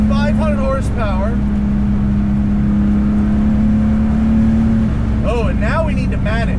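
A turbocharged 550 hp BMW E30 M3 with manual steering holds a loud, steady engine drone at speed from close inside the car, with a person talking over it at the start and again near the end.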